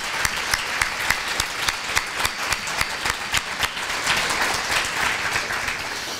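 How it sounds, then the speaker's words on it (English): An audience at a childcare policy breakfast breaks into steady applause for childcare providers, a dense run of overlapping claps with sharp individual hand strikes standing out, sustained and fairly loud throughout with no talking. "So let's give our childcare providers a round of applause."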